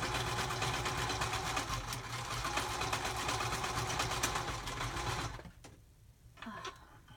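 A sewing machine stitches lace trim onto a scrapbook pocket page, its steady mechanical whirring loud and continuous for about five seconds before stopping abruptly, followed by a quieter pause and a few faint handling sounds.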